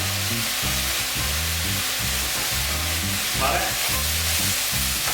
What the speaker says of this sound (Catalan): sofregint bé la verdura. Evitant que es cremi, però sí que es torri molt bé